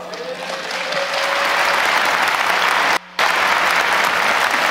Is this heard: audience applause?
yes